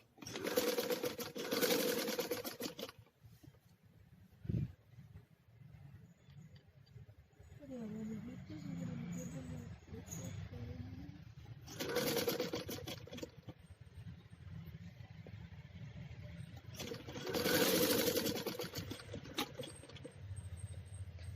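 A sewing machine stitches a net boat-neck blouse in three loud, close bursts separated by pauses, with someone talking in between.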